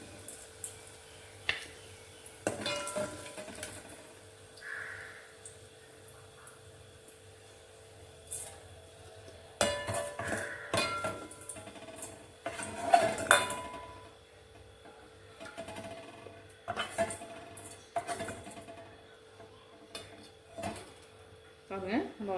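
Garlic chutney ingredients are stirred and scraped in a pan on the stove, with intermittent metal clinks and rubbing scrapes coming in short bursts, some louder, over a quiet kitchen background.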